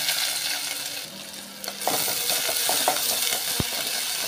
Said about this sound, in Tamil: இதை எண்ணெயில் நல்லா வதக்கி விட்டுக்கோங்க.